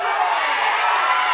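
A wrestling game crowd roars and cheers as a wrestler tumbles into the chairs, a steady, full wash of cheering voices throughout the short moment.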